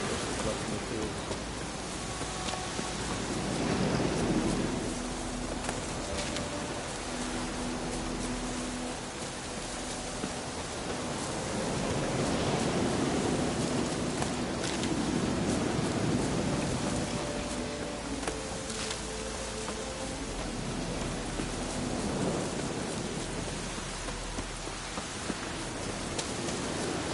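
Steady rain with low thunder rumbles rolling in at intervals in the video game The Witcher 3, a continuous wash of falling water that swells and eases over the whole stretch with no voices.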